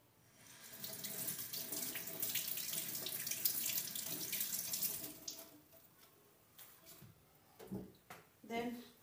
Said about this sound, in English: I will wash my tomatoes.